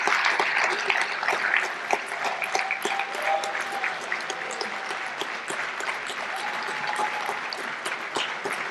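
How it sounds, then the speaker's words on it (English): Sustained audience applause at a chamber of commerce Chairman's Awards evening, a steady dense wash of clapping from a large room, with faint voices mixed in. "her memory with applause this evening"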